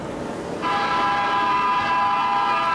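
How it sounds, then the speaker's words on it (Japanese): A Japanese imperial special train on JR East sounds a loud, sustained multi-tone horn that starts abruptly and holds steady, heard up close over the rumble of the passing train. "猛烈な警笛を鳴らして日の丸をはためかせ、"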